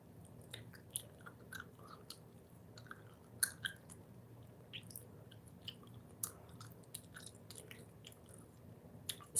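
Chewing gum close to the mouth, a soft, wet, rhythmic mastication with small smacking clicks. It is quiet and steady, with no speech.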